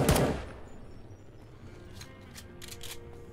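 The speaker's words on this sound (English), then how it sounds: "I got a machine gun now" A machine gun fires in the Fallout: The Frontier mod: a loud, rapid burst at the very start cuts off quickly. Faint scattered ticks and clatter follow over a quiet background.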